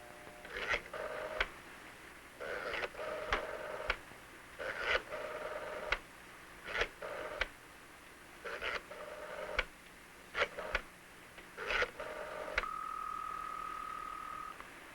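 Cartoon telephone dialing sound effect: a rotary-style series of rapid clicking bursts in irregular groups, repeated over several seconds, ending in a steady tone, with no talk.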